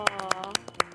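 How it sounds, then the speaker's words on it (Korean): A few quick, sharp hand claps in an uneven rhythm, close and crisp, with a sustained tonal sound underneath, in a studio setting. "와, 박수."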